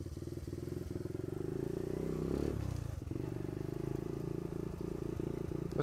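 A motorcycle rolls downhill in freewheel, a low steady rumble with light rattling and scraping that swells briefly midway and then continues evenly, quiet and with no talk.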